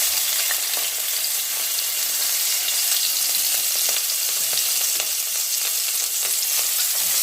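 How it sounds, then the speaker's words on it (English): Garlic, ginger and chilies fry together in hot oil, giving a loud, even hiss that continues without a break, broken only by faint scrapes as the pan is stirred. "Now, all together, I'm going to add in the garlic, ginger, and the chilies."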